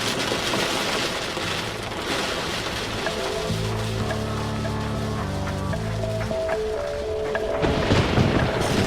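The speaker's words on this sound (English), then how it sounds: "There's a lot of hail going on right now, and it sounds tremendous right now." Hail pounds down during a tornado-warned storm in Vermont, Texas, a loud, continuous dense clatter with a steady low rumble, alone without voices.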